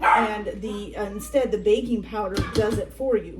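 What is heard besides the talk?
dog barking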